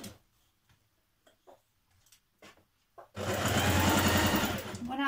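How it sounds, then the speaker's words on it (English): Soft voice and faint handling sounds come first, then a sewing machine starts, stitching a blouse seam with a loud, fast, steady mechanical chatter. "I've put pins and I'm going to stitch that seam now"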